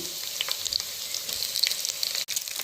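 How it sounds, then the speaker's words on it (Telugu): Peeled, slit boiled eggs fry in hot oil in a pan, giving a steady, close crackling sizzle with scattered pops and a brief dip near the end, with no talking. "ఉడికించిన గుడ్లని ఇందులో కొంచెం వేపుకోవాలి నూనెలా."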